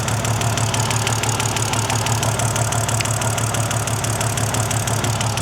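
A BMW drift training car engine idles with a misfire, a steady close-up rumble with a faintly uneven, pulsing beat throughout and no talking.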